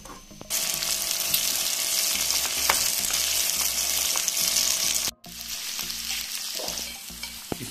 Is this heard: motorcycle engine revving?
no